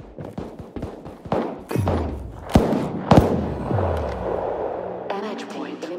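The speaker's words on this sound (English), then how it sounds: "Reloading." A gun reloads in the shooter game Battle Prime, with a series of clicks and heavy metallic clunks, two sharp snaps standing out, amid game noise and a spoken voice line.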